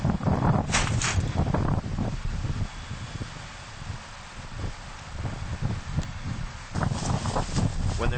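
Wind gusting across an ice rink construction site, buffeting roughly with rustling and microphone rumble that swells strongly, eases in the middle, then picks up again.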